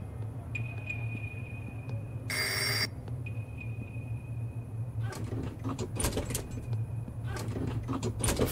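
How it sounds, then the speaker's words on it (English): An old-style telephone rings in a video game, a thin repeated tone with a louder burst of bell clatter partway through, followed by scattered clicks and taps over a low steady hum. "is that a phone ringing?"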